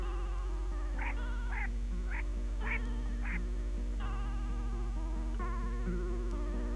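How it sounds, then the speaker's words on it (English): Black ducks quack on a rocky pond shoreline, several short nasal calls in a loose series, moderately close, set against a steady low hum. "Further up the pond by the ridge, ducks feed along the rocky shoreline."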